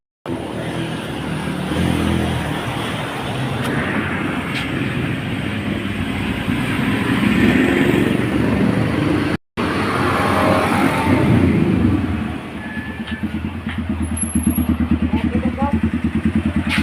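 A Honda Wave motorcycle engine running with a steady, close mechanical drone and rattle, a brief cut partway through, as someone talks over it.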